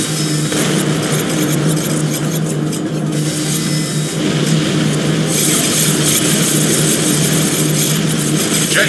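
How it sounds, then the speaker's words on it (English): Jet fighters attacking in the game X-Morph: Defense, a dense, continuous engine roar with broadband rumble and whine holding steady for the whole stretch, loud and unbroken, with no talk over it. "Jet fighters in the zone, attacking the aliens."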